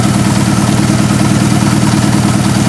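A barn-find Honda Hondamatic 750 motorcycle engine idles loudly and close by while running on only two cylinders, its lumpy, steady thrumming pulses continuing without pause.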